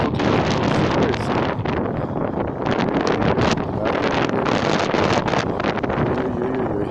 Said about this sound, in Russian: вот слышите, наверное, как ветер дует, да?